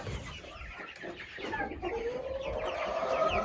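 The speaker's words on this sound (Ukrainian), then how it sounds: "І там воно бройлери сидять." Broiler chickens cluck in a poultry coop, a soft, overlapping chatter of low clucks and murmurs that grows slightly busier and louder toward the end, with no one speaking.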